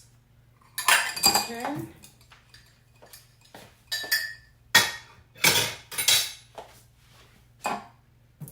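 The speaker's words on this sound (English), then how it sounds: "Time to dry some dishes." Dishes clink and clatter as they are dried, in a series of sharp, close knocks and rattles spaced irregularly. A few spoken words come in briefly between the clinks.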